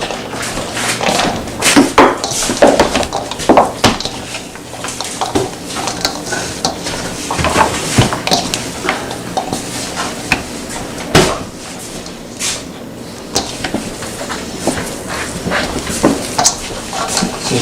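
Tacky ground venison summer sausage meat is mixed with cheese, making continuous close squelching, slapping and kneading sounds with occasional knocks against the bowl.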